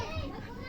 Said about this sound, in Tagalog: Maingay guys kasi nasa tabi namin guys ang laruan ng mga bata.